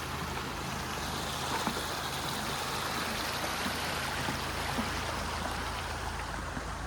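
Stream water flows steadily beside a trail road crossing on the Appalachian Trail near Buck Mountain Road, a continuous broadband rush with no talk.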